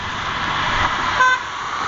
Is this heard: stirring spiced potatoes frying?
no